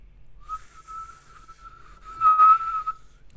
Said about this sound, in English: I've discovered I can whistle inward.